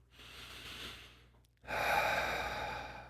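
Two deep breaths close to the microphone: a soft, airy inhale that fades, a short pause, then a louder, fuller breath that trails off.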